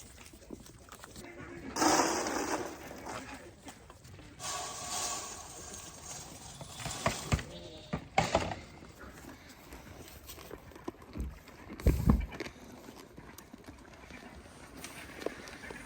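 Donkeys moving about on a farm at feeding time, with hoof clops, shuffling and rustling that come in irregular bursts, some close and fairly loud, others faint.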